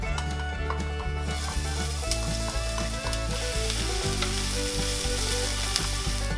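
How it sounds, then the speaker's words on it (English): Shallot and garlic fry in oil in a hot pan, a steady close sizzle running throughout with rhythmic background pulses and occasional sharp crackles. "I will put a little bit oil on hot pan, and I will put shallot"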